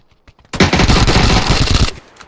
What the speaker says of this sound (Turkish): Bak silah olarak tabanca kullanacağım